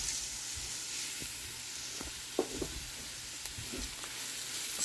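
Rice sizzles in a pan with cooked onions and garlic, a steady close hiss broken by a few soft scrapes and taps of stirring.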